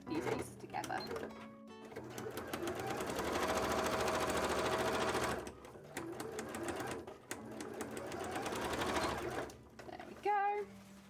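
A sewing machine stitches darts in cosplay fabric, giving a long steady whirring run followed by shorter bursts, with a voice speaking softly at times.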